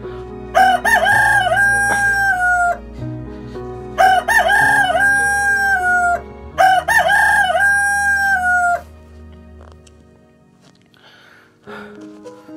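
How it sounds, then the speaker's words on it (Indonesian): A rooster crows three times in a row, loud and close, each long crow separated by a short pause, during a children's church service. Quiet follows the last crow. "aku digerakkan Tuhan untuk berkokok"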